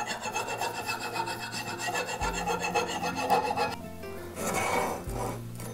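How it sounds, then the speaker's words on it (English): An old axe head being hand sanded with 120 grit sandpaper, giving close, continuous rubbing and rasping strokes in an uneven rhythm, with no voices. "So now I am sanding. I got some 120 here."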